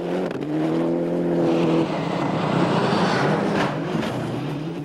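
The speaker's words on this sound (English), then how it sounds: "Reigning world champion Didier Auriol was right on the limit from the word go in his Toyota." A 1995 Toyota rally car on chisel-edge snow tyres races along a Swedish snow stage, its engine loud and revving hard with rising and falling pitch as it speeds past.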